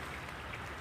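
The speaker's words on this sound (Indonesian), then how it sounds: "Hujan lur, tambah deres hujannya." Rain pattering steadily outdoors, a dense even wash of drops with a few brighter splashes, continuous and fairly close with no talking.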